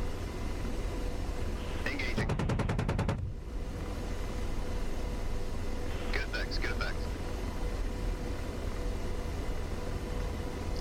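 An AH-64D Apache helicopter's 30 mm chain gun fires in DCS World as one rapid burst of about a second, loud and sharp over the steady rotor and engine hum, followed later by short radio-style voice calls.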